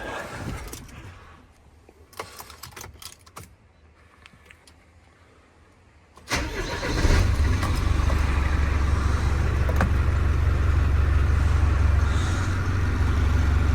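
A 7.5 ton box van's diesel engine cranks and catches after quiet cab rustling and a few clicks, then settles into a loud, steady, rumbling idle.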